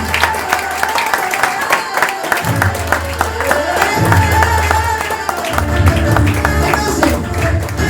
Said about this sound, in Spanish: Aplauda al rey. Así le da más ánimo.